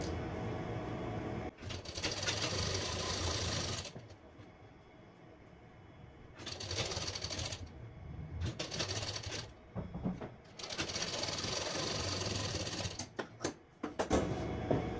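An electric sewing machine stitching a princess cut blouse runs in several rapid, buzzing bursts, stopping and starting with short quiet gaps and a few quick final stitches, close and fairly loud.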